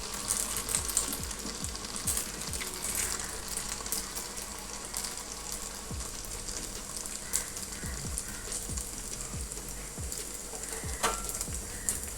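Batter for eggless muttayappam frying in hot oil over a medium flame, giving a steady close crackling sizzle with scattered small pops and clicks throughout, with no talking.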